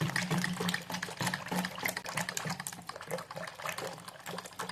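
Yogurt and gram flour whisked in a bowl, a rapid rhythmic clicking and slapping of the whisk against the bowl, close and continuous, with no voices.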